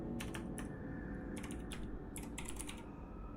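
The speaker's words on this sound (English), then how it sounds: "I might just not be centered on my keyboard either" Keys clatter on a computer keyboard in quick bursts of typing, short clusters of clicks separated by pauses, close and moderately quiet over a steady low background hum; no one speaks.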